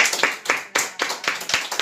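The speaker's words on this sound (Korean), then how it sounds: "이제 우리 말씀을 듣기 전에 우리 하나님 앞에 영광의 박수 한번 올리겠습니다" A church congregation claps together in a quick, brief burst of close, sharp hand claps with no voices over it.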